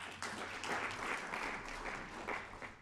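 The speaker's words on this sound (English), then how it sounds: "Another round of applause, please." Applause from a conference audience, a steady patter of clapping hands throughout, moderately distant and fairly quiet.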